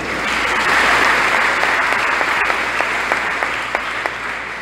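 Warm applause from a church assembly greeting standing community members at an Advent gathering, a dense patter that thins into a few scattered, distinct claps toward the end.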